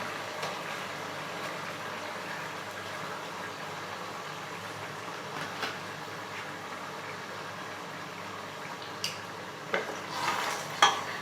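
Unwhisked yogurt being stirred into mutton korma in a pot over a lowered gas flame, with a soft steady bubbling hiss and occasional spoon scrapes and clinks that grow more frequent near the end, without talk.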